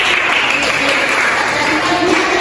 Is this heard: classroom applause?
yes